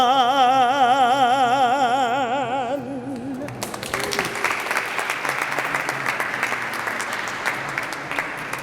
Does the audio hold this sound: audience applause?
yes